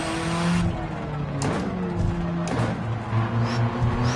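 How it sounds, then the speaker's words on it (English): Engine-swapped Subaru Impreza WRX road car driving in Gran Turismo 7, a continuous revving engine rising and falling through gear changes, with brief tire noise and someone talking over it. "This is the Subaru Impreza WRX road car, and this is a brand new engine swap"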